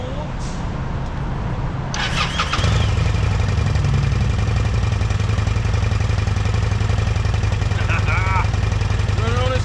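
A Kawasaki Vulcan motorcycle, abandoned for 18 years, runs on its own after a CVK carburetor rebuild, its engine catching and then holding a loud, steady, clattering idle up close, with someone talking briefly over it.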